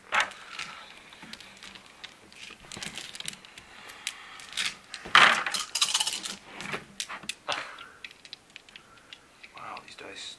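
Dice for a Legend of the Five Rings tabletop game rattle and clatter onto a table in a short burst midway through, amid soft conversation and small handling noises nearby.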